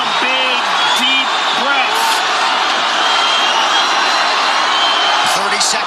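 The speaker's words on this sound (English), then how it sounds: "Crowd goes bananas as McGregor gets upright" A packed arena crowd roars loudly and steadily during a UFC fight between Conor McGregor and Khabib Nurmagomedov as McGregor gets back up, with whoops and yells rising over the din, and a commentator speaking above it.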